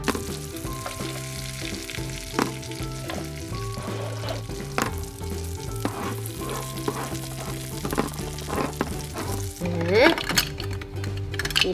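Fish sizzles on a toy grill during a pretend cooking game, a soft continuous frying hiss with scattered clicks and clinks of play utensils, while a voice talks over it.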